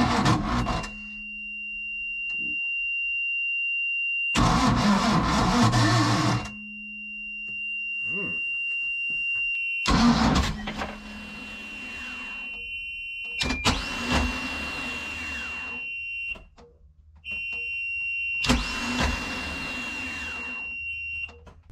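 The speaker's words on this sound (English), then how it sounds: "Seem to be having starter issues now." A starter on a 454 big block boat engine with starter issues cranks in several separate bursts, each a loud whirring grind lasting a couple of seconds, with a steady alarm tone sounding between them.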